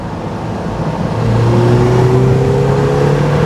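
A Mazda Miata NC driving, its engine holding a steady, loud drone with a rising tone as it accelerates, plus road and wind noise and no talk.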